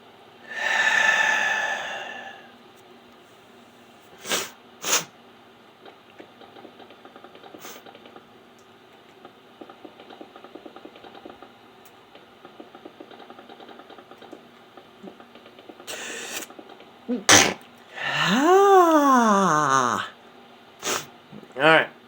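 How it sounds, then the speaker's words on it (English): Repeated sneezes and sharp snorting breaths from a person with allergies, a burst at the start and more near the end, over faint keyboard clicks and background hum, with a voice talking in between. "you could tell I'm getting annoyed by my sneezes"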